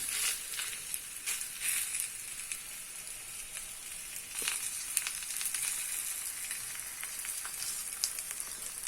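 Bajra roti dough laid on a hot, oiled dosa griddle, giving a soft, continuous sizzle close by, dotted with small crackles and pops and no talking.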